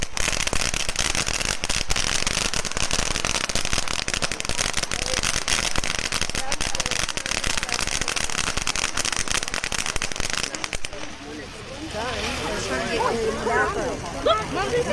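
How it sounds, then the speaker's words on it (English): Fireworks at a community church show pop and crackle in a dense, continuous barrage for about ten seconds, loud and near, before fading as excited voices of a family talk over the scene. "Firework over there!"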